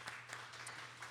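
Applause from a conference audience thanking the project coordinator, steady soft clapping throughout a short stretch, fairly faint and without speech.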